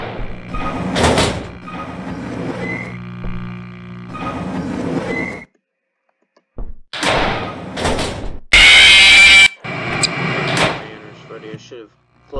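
A sliding door in an animatronics horror video game shuts with a short, loud, broadband rush of noise, with game sounds and a person talking around it.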